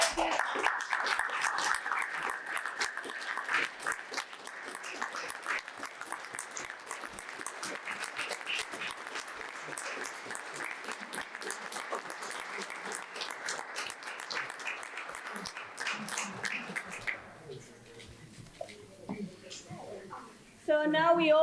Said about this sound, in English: we're just gonna ask for a round of applause because this is the power of the people,